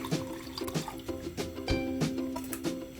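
A coconut and water mixture is poured into a hot pot while making ukdiche modak, a close splashing pour with a hollow ringing tone against the metal vessel.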